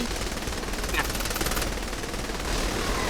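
Rapid automatic gunfire from the co-op video game Saints Row The Third Remastered, a steady dense rattle running throughout under a constant background bed.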